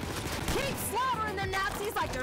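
Gunfire from an enemy gunner in a video game, bursts of shots sounding across the clip with game effects and voices mixed in over a busy background.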